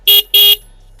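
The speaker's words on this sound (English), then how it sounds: "you have the turn indicators and the horn, which sounds like this." Horn of a Bajaj Pulsar N125 motorcycle gives two short, bright honks in quick succession, close and loud, followed by a low idling hum.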